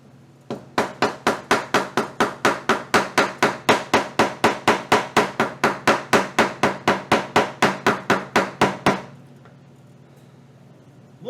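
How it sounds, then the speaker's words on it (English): A hammer strikes leather for a wallet about thirty times in a fast, even rhythm of sharp, loud, close taps, then stops abruptly, leaving near silence. "grab me a hammer real quick and kind of smooth that out"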